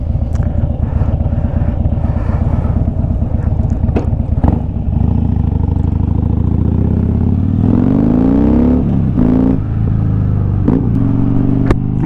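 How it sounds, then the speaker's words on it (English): A Harley-Davidson motorcycle engine idles with a low rumble, then revs up and pulls away, pitch sweeping upward, with clattering mechanical noise throughout. "he's waiting to hear my motorcycle take off."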